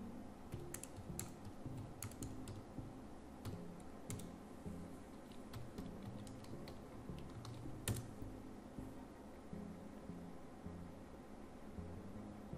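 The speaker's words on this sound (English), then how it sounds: "So go ahead and type SSH." Keys tapped on a computer keyboard while entering an SSH login command to a server, a quiet run of close clicks in uneven bursts with short pauses over a low background hum, no voices.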